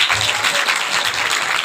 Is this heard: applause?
yes